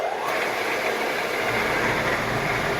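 An antique turn-of-the-century Bradford lathe turning very slowly in fourth gear with the bull gear engaged gives a steady, even mechanical whir and hum that holds constant throughout.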